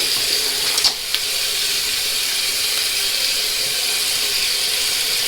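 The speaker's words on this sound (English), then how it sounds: "Wash my head one more time." Water runs from a tap into a sink while the head is washed during a shave, a steady broadband hiss that continues throughout with a couple of brief splashes or knocks near the start.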